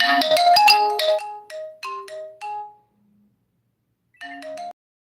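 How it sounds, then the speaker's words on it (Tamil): A mobile phone ringtone for an incoming call plays a loud run of melodic tones, pauses after a few notes, then starts another short burst; no voices accompany it. "ஃபோன் வருது"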